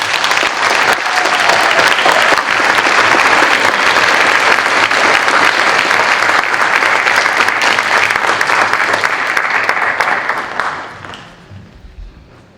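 Audience at an 8th-grade middle school academic honors ceremony applauding All-A honorees, a loud sustained wash of many hands clapping that holds steady for about ten seconds, then fades quickly to near silence.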